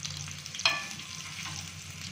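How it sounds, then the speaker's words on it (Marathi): Slices of alu vadi, a colocasia-leaf snack, shallow fry in a little oil with a soft continuous sizzle and one sharp clink partway through, close and without voices. "ज्यांना कमी तेल खायचं असेल त्यांनी अशा फ्राय करा."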